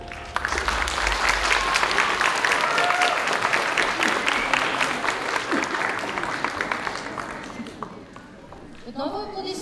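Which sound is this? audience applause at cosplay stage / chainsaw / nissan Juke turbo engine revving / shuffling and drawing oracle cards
audience applause at cosplay stage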